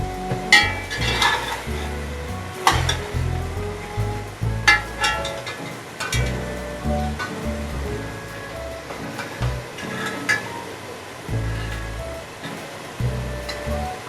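Potatoes stirred in a pot of mixed vegetable pulao to check doneness: repeated scraping and clinking of a spoon against the pot, uneven bursts over a steady low cooking hiss, close by.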